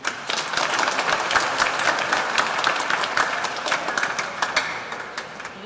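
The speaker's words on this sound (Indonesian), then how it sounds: "sekali lagi kita tepuk tangan dulu ya." A congregation claps together at a Christmas Eve Mass in a church, steady dense applause from many hands sustained for several seconds at an even, fairly loud level with sharp individual claps standing out, no speech over it.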